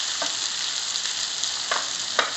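Two small onions frying in oil for stuffed brinjal, giving a steady, close hiss of sizzling with a few brief stirring clicks, heard alone without talk.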